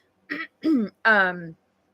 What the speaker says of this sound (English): have to clear my throat every couple seconds